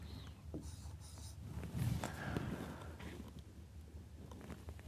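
A pen scratches across an application form in short, quiet strokes, close to the microphone over a soft room hum, with no talking.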